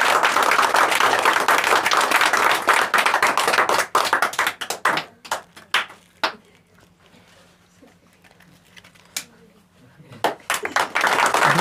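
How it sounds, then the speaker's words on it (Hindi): An audience applauds at a student award ceremony, dense loud clapping that thins into scattered individual claps before swelling again near the end. "तो इनके लिए भी एक जोरदार ताली होना चाहिए।"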